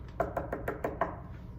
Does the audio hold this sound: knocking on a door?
yes